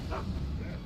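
A dog in Skyrim lets out a short, sharp bark followed by a quick yip, heard close and fairly loud in a brief burst over low background rumble.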